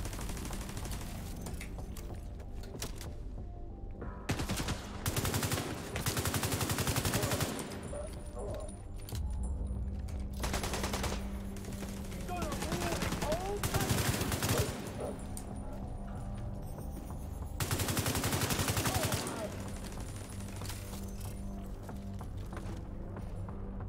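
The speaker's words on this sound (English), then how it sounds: "Shooting at my turret." Gunfire in The Division 2 crackles in several rapid bursts aimed at a turret, with repeated clusters of shots over steady game ambience, fairly quiet overall and with no talk.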